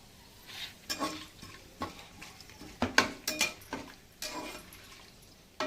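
Ingredients for soya chunk biryani sauté in a pan while being stirred, a quiet background sizzle punctuated by irregular scraping and clanking of a utensil against the pan.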